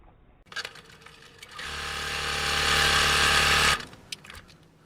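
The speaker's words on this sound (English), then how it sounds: "Gonna just sew over that line." A sewing machine stitches a coffee filter face mask in one sustained close whirring run of about two seconds, with light handling clicks before and after.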